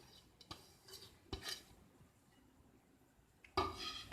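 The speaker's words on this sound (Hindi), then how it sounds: "प्याज डालेंगे इसमें, हरी मिर्च डाल देंगे, सब चीज़ें इसमें मिक्स कर देंगे हम" Spoon scrapes and clinks in a bowl as onion, green chili, coriander and cabbage are stirred into a potato mixture, a few quiet scattered knocks close by, ending in a louder scraping stir.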